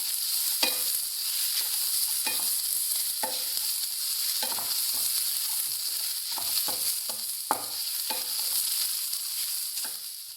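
Grated coconut for a fish curry roasts in a pan, a soft continuous hiss broken by frequent rhythmic spatula scrapes and taps, close and fairly quiet, with no talking.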